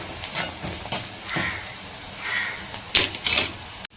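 Onions sauté in a pan for tomato egg thokku. A soft, steady sizzle is broken by intermittent scraping bursts of stirring at close range.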